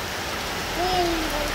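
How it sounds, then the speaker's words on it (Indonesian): Steady rain falls outdoors with a continuous hiss of drops on surfaces while a child bathes in it, a short voice-like tone rising briefly over the downpour. "Main di dalam situ aja mandi hujan nih."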